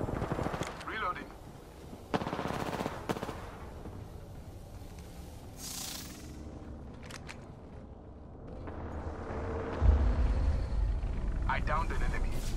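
Gunfire and bursts of machine gun fire in a shooter video game, with sharp shots clustered early on, then a quieter stretch with scattered effects and a rumbling swell toward the end.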